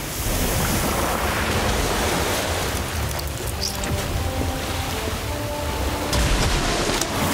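The Orb of Water spell in Harry Potter Magic Awakened gives a loud, continuous rushing of water like surf, dense and steady throughout with faint chiming tones under it.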